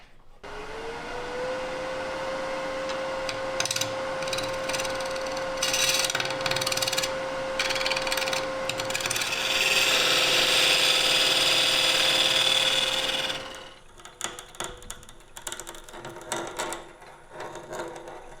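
A power drill whirs steadily for about thirteen seconds, boring a hole in a wooden block, its pitch holding constant with gritty bursts, then stops, leaving faint clatter.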